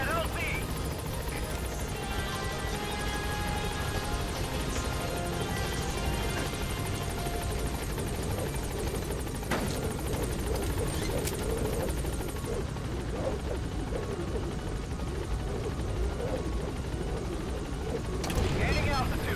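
The Pequod helicopter approaching a landing zone in Metal Gear Solid V, a continuous whirring rotor drone held steady throughout, with radio-style speech and talk over it.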